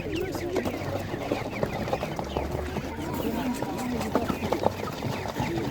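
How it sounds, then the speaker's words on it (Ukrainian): Laying hens clucking among the bustle of an outdoor market before Easter, scattered soft clucks under a steady crowd murmur and nearby talk. "Гарна курочка така"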